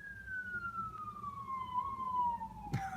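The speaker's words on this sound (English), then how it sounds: "there's an ambulance passing by" An ambulance siren sweeps past at a moderate distance, its wailing tone gliding steadily downward as it moves away, with a low traffic rumble underneath and a brief knock near the end.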